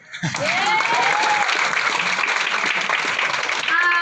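A seminar audience breaks into loud, sustained applause for a success story, steady for several seconds after a brief onset, with a few voices and cheers mixed in.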